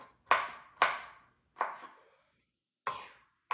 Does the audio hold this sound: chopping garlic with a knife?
yes